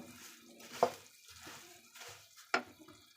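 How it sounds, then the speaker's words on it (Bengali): Sweet fried chira (flattened rice) with nuts is stirred together in a pan, producing a few quiet scraping sweeps with two sharper clinks of the spoon against the pan. "এখন আমি এগুলো সব একসাথে ভালো করে মিশিয়ে নেব।"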